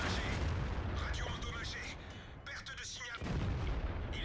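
Tank cannon fire from a Batchat 25t in the World of Tanks video game on the Live Oaks map: heavy booming shots over continuous rumbling battle noise, with a brief dip before the din returns.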